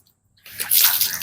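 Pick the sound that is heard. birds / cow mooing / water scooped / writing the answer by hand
water scooped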